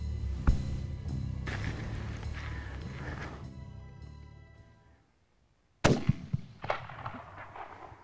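A sharp rifle shot cracks out during a whitetail buck hunt in Montana after a stretch of quiet outdoor ambience, followed by a few fainter echoing thumps and rustles.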